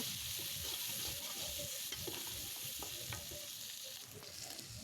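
Constant sizzling as tomato paste, chili and onion fry in a pan, with repeated scraping and stirring strokes close by.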